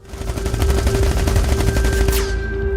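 Rapid bursts of automatic gunfire in the VR game Into The Radius 2 crackle in quick succession, loud and close, over a low rumbling background.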